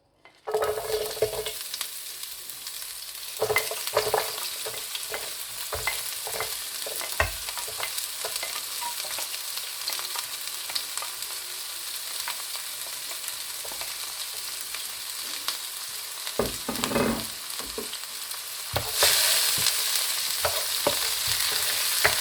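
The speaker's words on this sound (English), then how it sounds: "into the same oil we're going to go with some onions" Onions frying in reused oil back on the burner for shakshuka, a steady close sizzle with scattered utensil scrapes and stirring knocks; the frying swells louder near the end.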